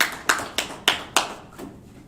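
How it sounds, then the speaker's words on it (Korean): A church congregation at a Sunday service claps in unison, five crisp, evenly spaced claps ringing out close by before fading into quiet. "주님께 영광의 박수 올립니다."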